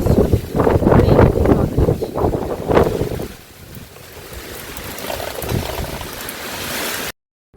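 Strong wind gusts from Cyclone Remal rush loudly against the microphone for a few seconds, then ease to a softer, steady blowing before cutting off.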